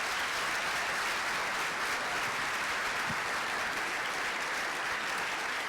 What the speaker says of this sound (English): About another round of applause for the concert orchestra here.